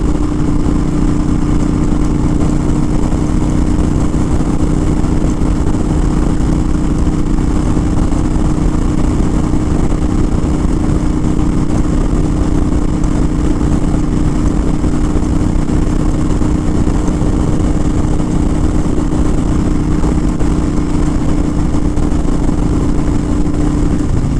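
A Honda Fury motorcycle fitted with a Cobra PowrPro fuel tuner runs continuously, giving a loud, close, steady engine drone for the whole stretch with no talking over it.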